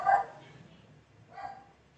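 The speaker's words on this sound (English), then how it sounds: "Oh, our dogs are going mental." Dogs barking indoors, two short muffled barks about a second apart, faint and somewhat distant.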